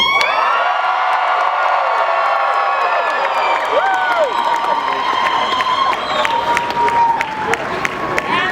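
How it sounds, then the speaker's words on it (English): A large crowd screams, whoops and cheers loudly and continuously at a U.S. Air Force basic military training graduation, with applause and high shouting voices filling the scene. "on the count of 3, I want you to scream as loud as you can and let them know that you are here waiting for them"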